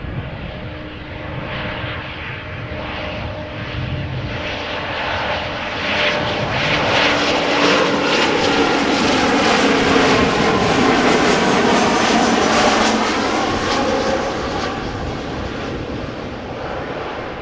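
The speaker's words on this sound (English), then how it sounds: "We have another Embraer 190 KLM flight 920 arriving from Southampton." KLM Embraer 190 jet airliner arriving at Amsterdam Schiphol Airport on runway 06, its engine roar swelling loudly as it passes close, then easing off, with no voices.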